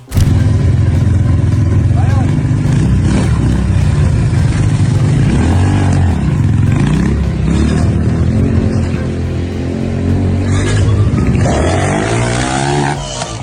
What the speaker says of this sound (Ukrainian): А ось так проходить тренування російських штурмовиків мотоциклістів.